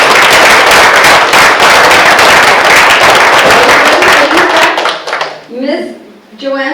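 Loud, thunderous applause at a school district board meeting for a longtime elementary school principal, dense clapping filling the room before tapering off, with a voice speaking over the final moments.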